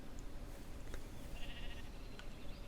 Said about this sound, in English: There's the sheep, as you can see.